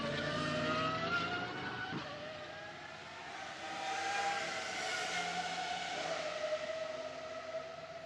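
A Praga Bohema race car circulating at the Nürburgring during a GT1 Sports Club session, its engine a sustained tonal whine that rises and falls as it passes at a moderate distance, heard alone.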